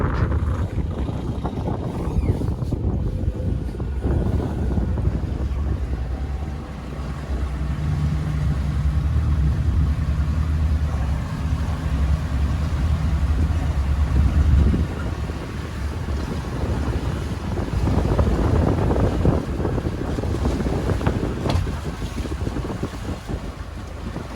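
A boat's motor runs beneath heavy wind buffeting the microphone, with a low engine drone swelling and easing as the hull swings around on open water, and waves and gusts rushing throughout.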